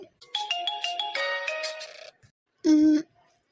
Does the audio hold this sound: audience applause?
no